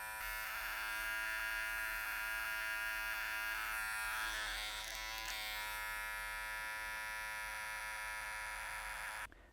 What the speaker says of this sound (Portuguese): eu venho com a maquininha e faço aquele último polimento para tirar aqueles cabelinhos que ficam arrepiando para fora do formato